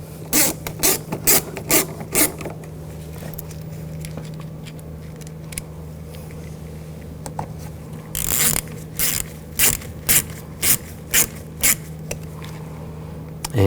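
Repeated short ratcheting bursts, close and crisp, from screws being driven on a 2000-2006 BMW X5 front window regulator, coming in clusters with pauses between them over a steady low hum, with no talk.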